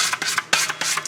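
Bread dough for a French tradition baguette with T80 flour being scraped around the edges of a bowl, close-up rasping strokes repeating in a rough rhythm, alone without talk.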